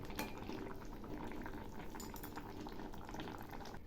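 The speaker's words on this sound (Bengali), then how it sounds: "একটু নেড়ে চেড়ে নামাবো।" A thin rohu fish curry with broccoli simmers in a pot with chopped coriander. It gives a steady, faint bubbling hiss of boiling liquid throughout, with no speech.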